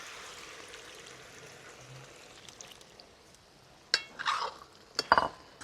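Watermelon rind curry being stirred in a pan, with a low steady hiss of cooking and a few sharp scraping clinks of the spoon near the end, close and moderately loud, no speech.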